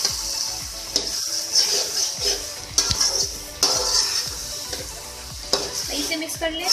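Mustard greens and potato with crushed cumin are stirred in a hot pan, with a bright sizzle and a run of loud, rhythmic spatula scrapes and knocks, close up and with no talking.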